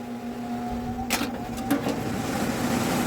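An old furnace blower's direct-drive electric motor, with no pulley, running slowly: a steady low hum with a faint higher whine, plus a couple of brief clicks and rattles partway through.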